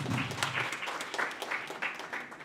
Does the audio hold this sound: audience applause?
yes